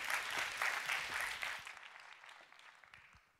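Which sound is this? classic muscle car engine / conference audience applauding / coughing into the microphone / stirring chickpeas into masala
conference audience applauding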